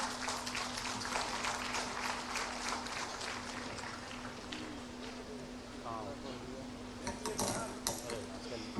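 Applause from an outdoor audience at a foundation-stone event greets the Chief Minister: a faint, steady wash of distant clapping under a constant electrical hum, with scattered voices and a few clinks toward the end.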